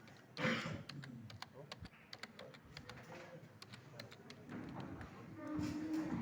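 Quick bursts of key presses on a computer keyboard as a domain name is typed, faint and close, with soft murmuring voice in the background.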